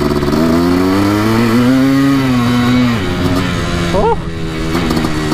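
A Yamaha YZ490 two-stroke dirt bike engine drones loud and close while riding in second gear, holding a steady pitch that rises slightly, then drops and roughens after about three seconds. A rider's brief exclamation is heard over it.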